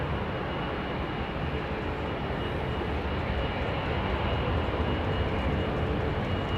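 Continuous broad roar of a jet airliner with Pratt & Whitney engines at London Heathrow Airport, a steady loud rumble with no voices.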